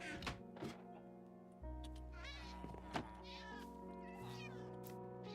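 A cat in a video game meows a few times amid a busy game soundscape of steady hum, thumps and scattered clicks, the cries short and moderately close.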